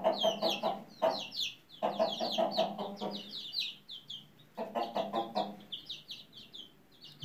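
Chickens and a rooster cluck in a yard where they are being fed grain, giving repeated short bursts of soft clucks and calls fairly close by, with brief pauses between groups.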